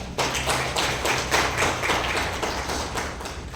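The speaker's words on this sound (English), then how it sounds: "let us welcome him with hands of clap." Audience applause at a formal program on the RTI Act and POSH Act, a dense, steady wash of many hands clapping that holds loud and continuous throughout.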